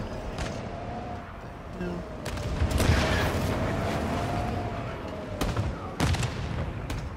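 Bursts of gunfire from a Call of Duty Modern Warfare II Ground War battle, with several sharp shots and rapid volleys cracking over a constant rumbling battlefield background.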